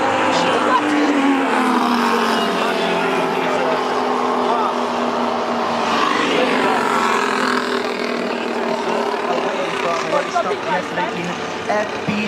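Formula 1 cars in practice at Monza's Ascari section, a continuous loud engine roar with shifting pitch that swells and fades as cars pass, heard alongside a steady crowd and trackside wash.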